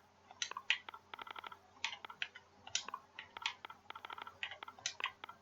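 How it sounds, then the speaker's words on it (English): A computer keyboard is typed on to search the Microsoft Store, with soft, quick clicks in short bursts and brief pauses, quiet and close. "So here, we just got to type in World of Tanks."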